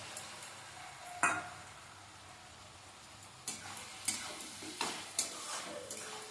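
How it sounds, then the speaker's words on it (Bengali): Cabbage cooking in a pan with small fried shrimp is turned with a spatula, giving soft, scattered scrapes and taps over a quiet background sizzle. "ঢাকনাটা খুলে সবজিগুলো একটু নেড়ে চেড়ে দেবো আর ভেজে রাখা চিংড়িটা দিয়ে দিচ্ছি"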